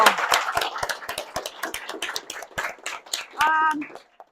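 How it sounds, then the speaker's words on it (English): Audience applause at a university business event, a short burst of many hands clapping at moderate volume that thins out and fades within a few seconds. "Give yourself a round of applause."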